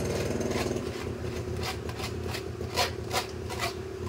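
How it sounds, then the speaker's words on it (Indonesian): A household water pump motor runs with a steady, droning mechanical hum and buzz, close and constant throughout, with a few faint rubbing scrapes over it. "Ada suara bunyi motornya Pak."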